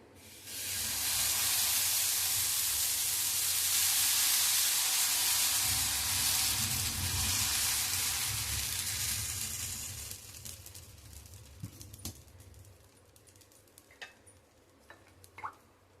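Dosa batter hissing loudly on a hot pan, a steady broad sizzle that swells for about ten seconds and then thins to a quieter crackle with scattered small pops and drips.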